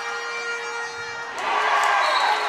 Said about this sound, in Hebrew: קטרינה בנדוביץ' סוחטת כאן את מחיאות הכפיים מכל הקהל על המגרש.